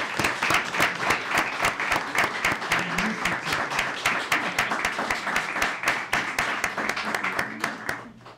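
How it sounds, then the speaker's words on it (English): Sustained applause from a sizable crowd at a mayor and council meeting, dense steady clapping that holds for several seconds before easing slightly at the end. "Let's give them a great round of applause for accepting it."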